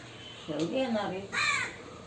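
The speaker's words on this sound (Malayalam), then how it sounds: "അത് കാക്ക കരയുന്ന" A crow caws twice in quick succession, fairly close, against a quiet background hum.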